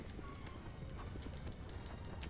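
Horse hooves clip-clopping at a steady trot in the video game Shadow of the Colossus, fairly close over a low ambient background, with a brief whinny-like tone early on.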